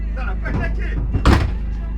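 A car door in the setting of the Dakar 2026 rally shuts with a single dull thunk amid ongoing conversation, people talking in French over a steady low engine hum.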